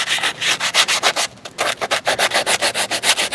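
A 2009 Pontiac G8 wheel being polished by hand gives off quick, steady rubbing strokes, about five or six per second, close and fairly loud with one brief pause midway and no talking.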